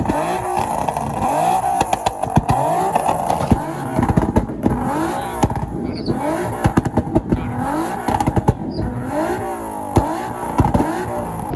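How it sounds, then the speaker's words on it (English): Engines rev and tires squeal as a small truck drifts at a car meet, with repeated loud revving bursts and skidding sweeps that stay close and continuous, while some voices can be heard faintly underneath. "He drifted the little trucks."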